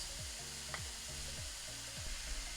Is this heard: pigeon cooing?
no